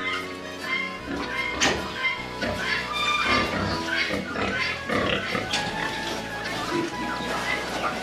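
Farm pigs raised for bacon and suckling piglets grunt and squeal over busy rural background noise, the calls overlapping and continuous, with voices also audible.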